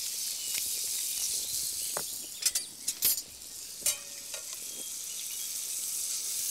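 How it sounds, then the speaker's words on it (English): Thin slivers of smoked pork loin sizzle gently in a pan, a steady soft hiss with scattered small pops and crackles, no voices over it. "we'll pop our little slivers of loin of smoked pork in there gently to cook for a moment or two"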